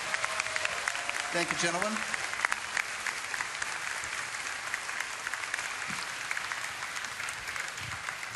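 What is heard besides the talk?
audience applause at BlizzCon panel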